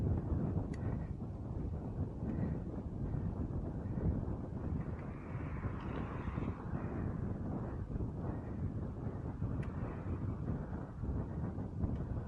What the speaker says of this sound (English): Definitely got a headwind now.